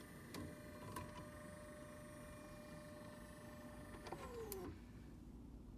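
A 2020 Kia Soul EV head-up display unit powering up, a faint electric motor whir with a click at the start and a rising whine near the end, inside a quiet cabin.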